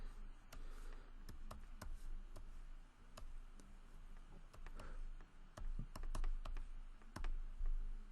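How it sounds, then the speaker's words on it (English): Fingers tapping numbers into a calculator, a series of small sharp clicks in uneven bursts over a low background hum, close and faint. "you go and you type all those numbers in your calculator"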